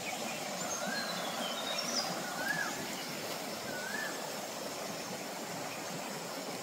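A rain-fed stream runs down the hills through forest near Kodaikanal, giving a steady broadband rush of water. A few faint bird calls rise above it.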